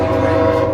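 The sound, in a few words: train horn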